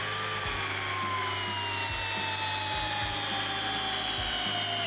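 A Flex cordless drill driver whines steadily at high speed driving a big screw, its motor pitch slowly dropping under load, with a few periodic clunks as the screw bites.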